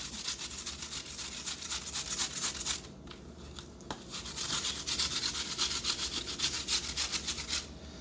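Apples grated by hand on a grater for apple bread, a steady, rhythmic rasping scrape repeating rapidly and close, with one brief pause midway.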